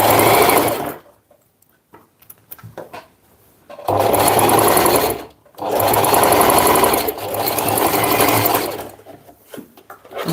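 A sewing machine stitches a backstitch in loud, rapid mechanical bursts, running in two long stretches separated by quiet pauses, close to the listener.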